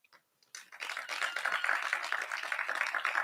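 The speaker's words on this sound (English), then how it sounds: "The applause seems to be too light." Light applause rises from an audience as a bank CEO is welcomed to the podium at a leadership event, with scattered claps starting after a brief quiet, then settling into a steady, moderate patter.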